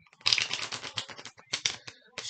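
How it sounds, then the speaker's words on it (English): A deck of playing cards sprung from hand to hand in a card-spring shuffle, a quick burst of crisp, fluttering card snaps in uneven clusters, close and fairly loud with no talk. "You just spring the cards,"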